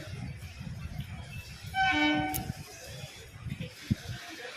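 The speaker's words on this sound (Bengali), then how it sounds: "এই যে ট্রেন ঢুকছে আলো দিয়ে দিয়েছে" A train arrives at a station, sounding a clear horn toot over rumbling rail noise, with people talking in the background.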